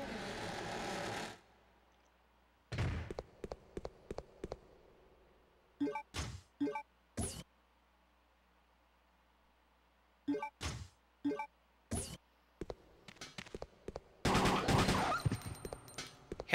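Handgun shots ring out in Resident Evil Code: Veronica on Dreamcast, sharp isolated cracks in short irregular bursts separated by quiet gaps, with a heavier clattering flurry near the end.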